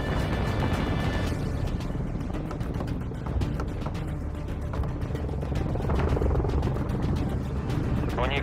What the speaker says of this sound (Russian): Вертолет на месте.